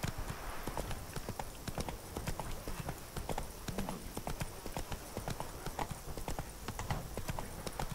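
Horse hooves clop in a fast, steady galloping rhythm in a video game, a continuous run of even beats held at moderate distance with no talk over it.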